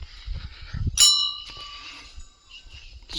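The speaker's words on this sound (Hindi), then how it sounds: "चलते हैं स्कूल की ओर घंटी बजाते हुए।" A bell rung at the gate of a government primary school, one bright ringing strike that hangs for about a second and then fades, with a fainter second ring near the end over low background rumble.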